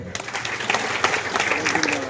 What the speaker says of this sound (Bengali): একটা হাততালি সবাই